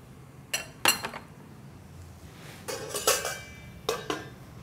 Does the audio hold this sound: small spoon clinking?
yes